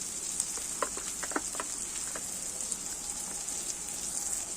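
Chopped onion, cumin powder and sour yogurt masala fry for a soybean curry, producing a faint, even crackling sizzle with a brief cluster of light spatula taps early on.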